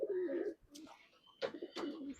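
Pigeons in a loft cooing in soft, throaty bursts close by, with a few brief higher flutters and calls between the coos, under no talk.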